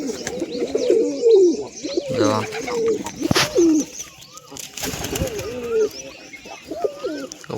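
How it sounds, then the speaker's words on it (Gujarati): Several white pigeons coo repeatedly in a close, dense chorus, their rolling calls overlapping throughout with a brief flutter of wings midway; a voice says a word at one point. "અહીંયા આપણે બધા કબૂતર છે"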